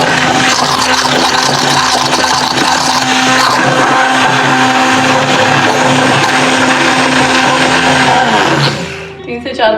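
An electric hand mixer whips about 200 grams of fresh cream in a bowl for dalgona ice cream, a loud steady whirring drone that runs unbroken for several seconds before cutting off abruptly near the end.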